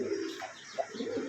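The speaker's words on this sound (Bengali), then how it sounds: "দেখেন কবুতরের ডাকটা দেখেন" A male satin pigeon gives soft, close cooing calls, two or three low throaty coos in a short burst with a quiet background.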